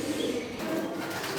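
Pigeons in an indoor breeding setup give soft, low cooing calls, faint and close, with light rustling in a quiet room.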